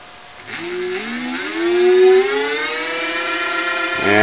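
A BionX electric bike hub motor whines as the thumb throttle is varied, a clear rising tonal wail with stacked harmonics that climbs in pitch and holds steady, loud and close with no talking.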